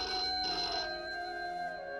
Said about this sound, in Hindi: देखो आ गया उसका फोन